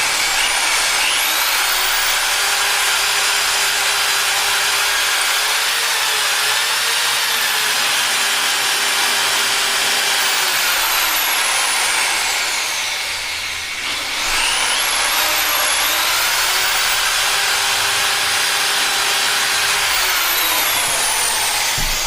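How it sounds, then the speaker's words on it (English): A loud, steady whine of a power drill boring a pilot hole through wood runs continuously, briefly dipping midway before resuming at full strength. "you can go ahead and drill your pilot hole"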